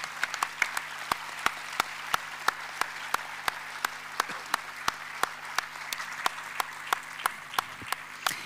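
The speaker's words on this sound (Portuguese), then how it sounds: "Acho que se calhar uma salva de palmas ajudava" Audience at a literary festival panel in Póvoa de Varzim claps in a slow, even rhythm, each clap sharp and distinct over a quiet room hum, keeping a steady beat.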